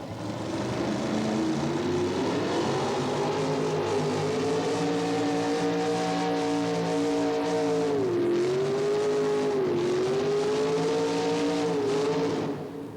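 A Mountain Motor Chevrolet drag racing car at a late-1980s drag racing event gives a continuous loud engine roar, its pitch dipping and rising as it runs down the track.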